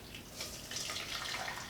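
Boiling water poured into a vessel for brewing kombucha tea, a soft continuous splashing pour at low level, steady for under two seconds with no talk.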